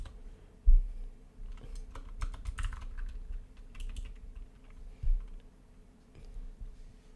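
Keys clacking on a computer keyboard while coding a Next.js app, quick irregular taps close by and fairly quiet, with a couple of heavier thumps, no talking.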